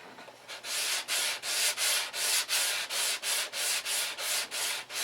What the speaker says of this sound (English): So I will sand this here.